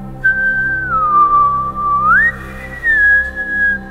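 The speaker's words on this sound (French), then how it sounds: "Elle reconnut le sifflement de la première nuit" A single clear whistled tone glides slowly down, then sweeps up and holds, sounding near and alone against a quiet background.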